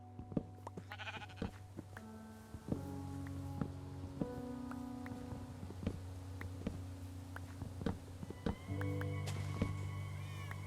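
A pet cat in a cozy farming video game meows a few times amid soft, steady game music and small chimes, fairly quiet throughout.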